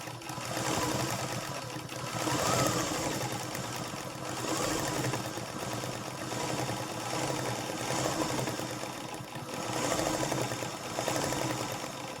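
A machine embroidery sewing machine stitching basic stitches, a continuous close mechanical whirring and rapid needle chatter with slight rhythmic swells, running steadily throughout without pauses.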